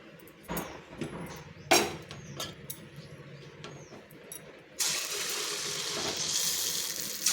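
Punugulu fritters made from idli batter dropped into hot oil, preceded by scattered utensil clinks and taps, then a loud, steady, close frying sizzle that fills the last few seconds; no one speaks.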